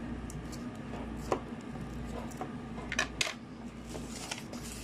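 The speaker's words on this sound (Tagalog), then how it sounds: "Hiwain lamang natin ito sa gitna." Knife cutting an onion in half on a cutting board, a few soft close chops and taps over a low background hum, with a small cluster of clicks near the end.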